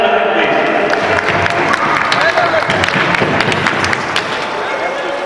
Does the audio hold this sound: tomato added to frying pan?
no